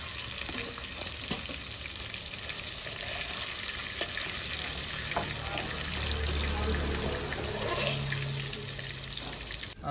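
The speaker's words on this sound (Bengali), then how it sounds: "মাছটা ভাজা জেনে সরষে তেল দিয়ে দিচ্ছি। মাছটা ভেজে নেবো" Khoira fish fry in mustard oil with a continuous crackling sizzle at moderate level, broken by occasional stirring or turning noises, while a voice speaks faintly underneath.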